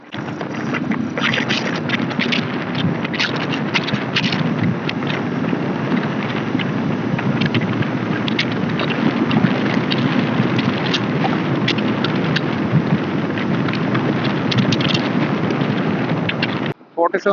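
Royal Enfield Interceptor 650 motorcycle engine held at a steady, loud drone for most of the run, with heavy wind buffeting over it and a sudden cutoff near the end.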